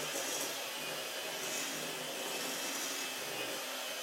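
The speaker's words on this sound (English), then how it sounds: "And just let that hand mixer do its job. I have it on high." A hand mixer on high speed whirs steadily while mixing bananas, a constant buzzing drone held close and even from start to finish, with no speech.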